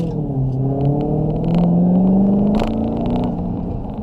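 A supercharged 2020 Dodge Challenger Hellcat Widebody engine rumbles close by, with a steady deep drone that swells and climbs slightly in pitch through the middle before easing back, no voices over it.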